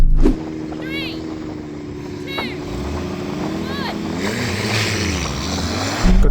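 Nissan GT-R cars, R32 through R35 generations, roaring off the line at a drag race start, a loud rising engine howl with rapid revving and gear changes up close, with people talking over it.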